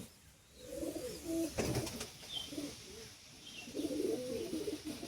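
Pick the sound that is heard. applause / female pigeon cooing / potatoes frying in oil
female pigeon cooing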